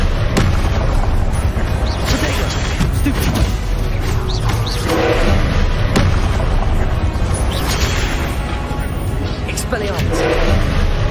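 Confringo blasting spell explosions in the Hogwarts Legacy video game: loud, continuous booming blasts and crackling bursts that fill the whole stretch without a break.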